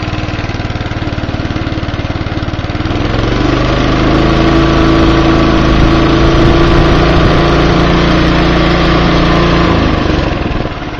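A lawnmower engine idles loudly and close by, its steady chugging settling into an even rhythm after a rougher start, with no voices.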